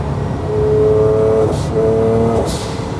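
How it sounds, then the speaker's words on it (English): Honda NSX engine droning loudly from inside the cabin, with two sustained tonal revs each ending in a short hissing blow-off valve burst. "I don't think you guys ever heard the NSX from inside. The blow valve is so sick."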